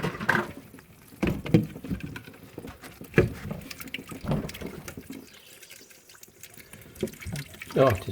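Water drains from the pipe under a kitchen sink while a mixer tap is being changed, giving irregular splashes and patters in bursts, near and moderately loud, with the occasional sound of handling.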